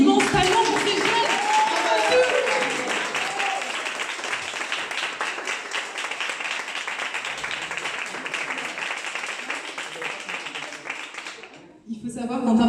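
Audience applause at a 2021 awards ceremony for young prize winners, a dense, steady wash of clapping lasting about eleven seconds before dying away, with a voice briefly heard at the start.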